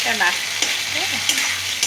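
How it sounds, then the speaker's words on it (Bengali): Ginger paste and capsicum frying in a pan, stirred with a spoon: a close, loud continuous sizzle with short scraping strokes, no talking. "এটা নাড়ছি।"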